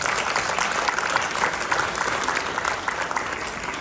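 A gathered temple community applauds its volunteers at an annual event, steady dense clapping from many hands throughout, fairly loud and even with no voices rising above it.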